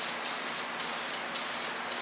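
A spray gun laying a thin coat on a Lexus IS300 bash bar, a loud continuous hissing spray that pulses in four even passes, close up with no talking.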